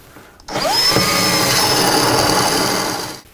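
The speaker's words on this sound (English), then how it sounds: "Okay, we are drilling for the toggle bolt." A power drill bores holes into a wall for toggle bolts during a low-profile microwave install, one loud, steady whine lasting about three seconds, close up, starting and stopping abruptly.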